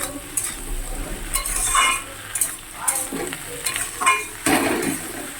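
Sliced okra stirred into a pan of frying potato and onion, sizzling steadily while a spatula scrapes and clinks against the pan in irregular bursts, close up with no talking.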